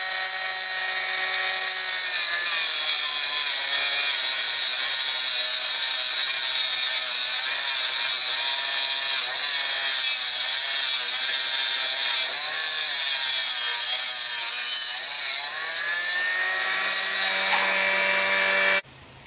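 An abrasive wheel chop saw grinds steadily through 12 mm thick metal, a loud continuous whine lasting nearly the whole stretch before the cut finishes and the wheel spins down to a stop.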